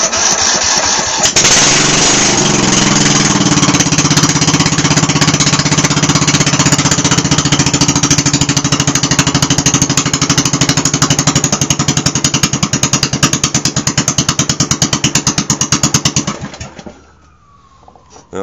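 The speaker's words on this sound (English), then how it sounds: "Cold start with no muffler." Very loud cold start of an engine running with no muffler, a harsh rapid-fire hammering roar that holds nearly steady for about sixteen seconds before cutting off abruptly, with no talking over it.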